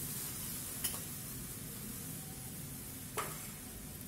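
A pot of water boiling with cumin and ajwain seeds gives off a faint, steady, hissing bubble. Two brief clicks break the low simmer.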